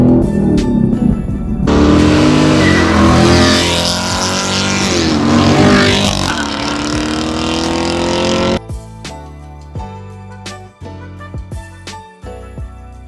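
A Chevrolet Camaro drives along a back road, its engine loud and close as it pulls hard for several seconds, then drops away abruptly, leaving quieter clicks and knocks.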